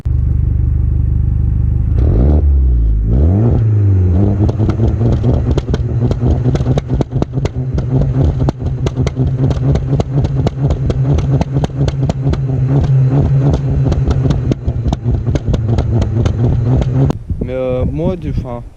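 A sports car fitted with a Ragazzon exhaust silencer starts up, then blips its engine in a long series of sharp, rapid revs close to the microphone, with a final louder rise and fall at the end.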